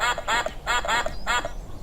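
A cartoon character's voice imitates a duck, quacking in a quick series of nasal bursts, clear and alone.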